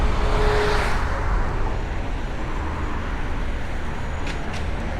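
Road traffic rumbles steadily as cars move and turn nearby, heard from a BMX bike's camera mic with constant broadband road and wind noise and no talking.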